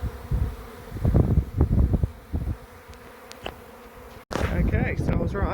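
A honeybee swarm settling into a stack of six hive boxes outdoors, with a dense, steady buzzing that surges and fades as bees fly close past, followed by a louder, fuller drone of many bees near the hives.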